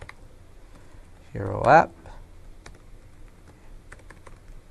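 A username and password are typed on a computer keyboard: faint, scattered key clicks sit under a brief spoken phrase in a quiet room.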